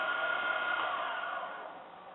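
A milling machine runs an inexpensive end mill through metal, throwing shavings, a steady whirring cutting drone that fades slightly toward the end, close and continuous with no voices.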